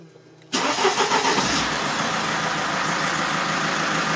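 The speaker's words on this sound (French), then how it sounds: "Là, on démarre, il n'y a plus de défaut." A Mercedes diesel engine with a common-rail injection fault cranks and catches after a quiet half second, then settles into a loud, steady clattering idle up close.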